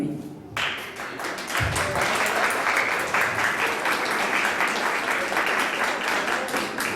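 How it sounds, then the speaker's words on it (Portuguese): A church congregation breaks into applause during a teaching class, the clapping starting abruptly after a brief moment and staying loud and dense throughout. "Essas palmas aí é para mim não falar mais nada"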